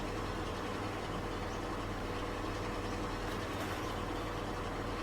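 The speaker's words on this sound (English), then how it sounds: "So it's quite an inefficient engine, and I don't really like the noise it makes that much most of the time." An underpowered vehicle engine in the driving game The Long Drive drones steadily and loudly throughout, a constant low rumble with no talk over it.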